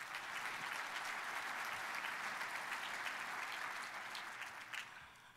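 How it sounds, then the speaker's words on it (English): A chamber of commerce audience applauds, a dense, steady wash of many hands clapping at a moderate distance, tapering slightly near the end. "Please give them a big round of applause"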